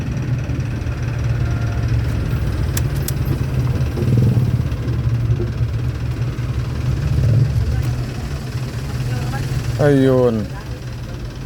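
A Suzuki Swift engine idles steadily with a low hum beneath talk, then cuts off near the end as the hum drops away, followed by a brief rising whir around the restart.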